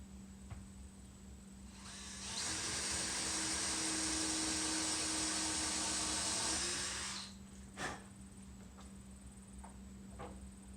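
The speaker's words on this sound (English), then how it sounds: "I'm going to be drilling a 5/8 hole into the 2x4s" A power drill bores a 5/8-inch hole into a 2x4, whirring steadily for about five seconds, bright and hissy, then cuts off, followed by a few light knocks in a quiet room.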